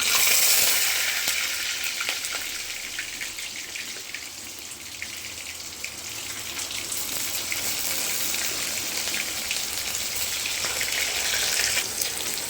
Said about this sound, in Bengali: এবার কড়াইয়ে দিয়ে দিয়েছি তেল আমার গরম হয়ে গেছে। এবার এক এক করে মুঠাগুলো এর মধ্যে ছেড়ে দেবো।